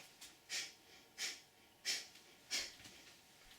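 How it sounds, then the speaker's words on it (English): Four soft, steady exhales through the nose come at an even rhythm of roughly one every two-thirds of a second, faint and close against a quiet background. "We sort of push the belly in and exhale through the nose."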